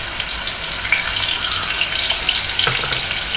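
Chopped onion sizzles in a hot pan with curry leaves, browning as it fries: a steady, loud hiss with a faint crackle and no talk.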